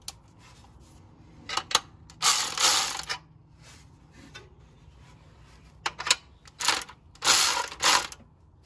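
Metal screw being turned to set tension on a power steering pump bracket of a 1977 Ford truck, a few short bursts of ratcheting clicks with quiet gaps between, close and clear.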